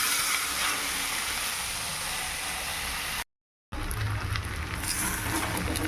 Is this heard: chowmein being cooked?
yes